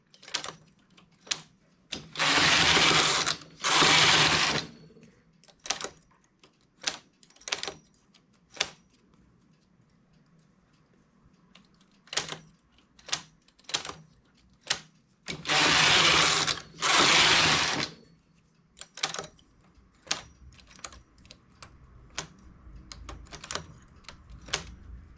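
A knitting machine carriage makes two long, loud rasping sweeps across the needle bed while making a vest with a ribbed cuff, with scattered sharp clicks and taps in between and no talking.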